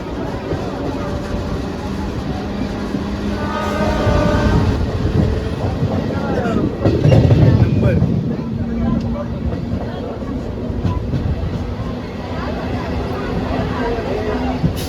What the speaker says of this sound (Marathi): आता जो आपली ट्रेन आहे ती सुटलेली आहे